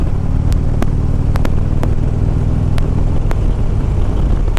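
A 2014 Harley-Davidson Street Glide FLHX rumbles steadily while being ridden, a loud, continuous low engine drone mixed with wind noise and a few faint clicks, with no talking.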